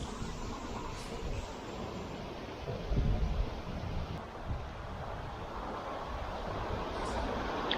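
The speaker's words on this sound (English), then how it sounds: "Oh, this wind is not helping at all." Wind gusting by the Derbyshire Wye during rainy grayling fly fishing, a steady, fairly quiet rushing noise buffeting the microphone with a brief stronger gust, no talk.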